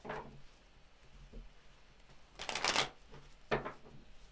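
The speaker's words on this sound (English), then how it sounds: "One more shuffle." A deck of cards is riffled twice, a sharp fluttering burst followed a second later by a shorter one, close and fairly loud over a quiet room.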